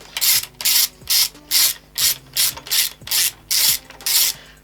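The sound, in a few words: ratchet with 8mm socket and extension unbolting outboard motor bolts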